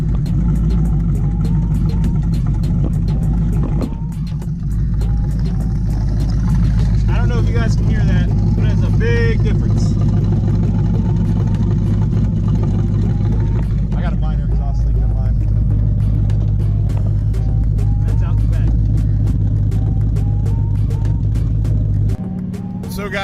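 A 2012–2013 Ford Mustang Boss 302 V8 with the track key engaged sits at a loud, lumpy, loping idle, with a low uneven rumble and a brief throttle blip, while someone talks over it close by.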